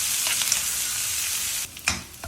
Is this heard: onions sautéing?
yes